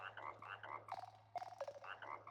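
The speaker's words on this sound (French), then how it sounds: "il y a le crapaud qui m'a appelé" A toad croaks in a video game with a dreary setting, giving a rhythmic series of repeated croaks and chirps, faint and close over a steady low electrical hum, with no speech.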